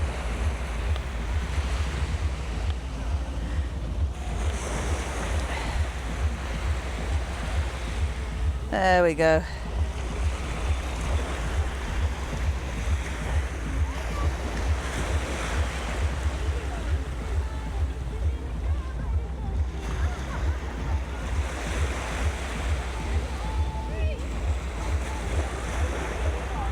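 Sea waves break at the water's edge on Blackpool beach, a rhythmic wash that swells and recedes under steady wind buffeting the microphone, and someone speaks briefly in a single short line.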